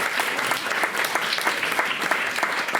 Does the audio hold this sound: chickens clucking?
no